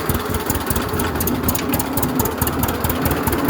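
A 1937 unstyled John Deere A tractor engine runs loud and close with throttle applied, a dense, even chugging with rapid pulsing and no voices over it.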